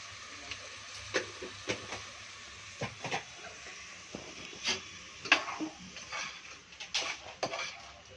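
Spiced cucumber curry (booti dosakaya) stirred in a pan, with intermittent scraping clinks of a spoon against metal over a faint sizzle, several irregular strokes close up.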